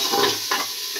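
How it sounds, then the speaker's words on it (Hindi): Washed rice stirred and fried with a spatula in a pan for sweet carrot rice, giving a close, soft sizzle with two or three scraping strokes across about a second. "अब इसमें हम चावल डालते हैं जो हमने धोकर रखे हैं, एक गिलास चावल। पलटे के साथ चलाते हैं।"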